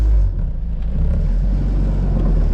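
A Honda Civic EG with a cheap-kit manual conversion and traction bar pulls away from a stop, its engine a loud, steady low rumble close by, without talk.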